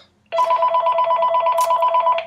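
A telephone rings indoors in a steady, continuous electronic trill, starting abruptly and repeating throughout, loud and close with no talk over it.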